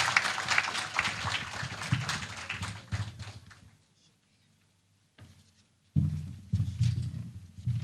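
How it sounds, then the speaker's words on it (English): Audience applause for Gloria Emeka at the launch of Tullow Alumni Connect in Ghana, loud clapping and cheering that fades to near silence, then swells again in a second burst. "A round of applause for Gloria."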